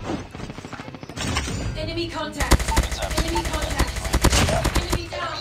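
Rapid automatic gunfire in the mobile game Call of Duty Mobile, dense bursts of shots continuing for several seconds with someone talking over the start.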